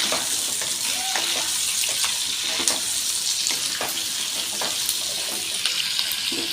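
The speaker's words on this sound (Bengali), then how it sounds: "এবার আলু ও কুমড়োগুলো দিয়ে দিলাম এই সবজিটাও সমস্ত সবজি খুব ভালো করে ভেজে নেবে" Steady, close sizzling of potato and pumpkin frying in hot oil, with occasional scrapes and pops from stirring throughout.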